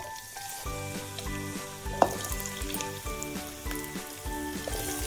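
Onions and tomatoes fry in about two tablespoons of oil in a kadai, hissing steadily beneath louder background music, with one sharp clink of a spoon partway through.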